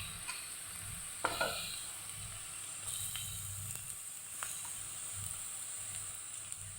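Onions fry in a pan as garlic goes in, producing a faint, continuous low sizzle with a few light stirring clicks and scrapes scattered over it.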